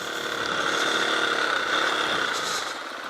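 A Dobe Prime motorcycle riding through a sandy wash, its engine a steady, close mid-pitched drone with a high whine, sustained and loud throughout before easing slightly at the end, with no voices over it.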